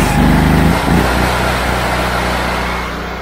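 An engine revs hard during a chemical injector draw test, a loud steady roar with a rising pitch at the start, then holding high and easing slightly, close by.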